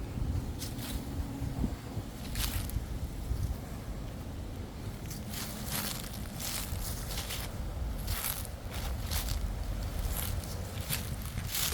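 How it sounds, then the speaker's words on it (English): Strong wind roars steadily across the microphone in gusty bursts, a constant low rumble with no voices. "It's so windy out."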